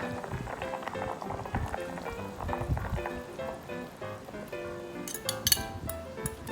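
Eggs being beaten with a utensil in a bowl in a home kitchen for a thick pork-rib hot pot, making rapid, dense clinks and scrapes close up, with a few brighter clatters near the end.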